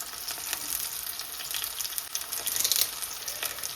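Small sambar onions and curry leaves fry in hot oil for a drumstick curry, giving a steady bright hiss with a few louder crackling bursts near the end, close by and without talk.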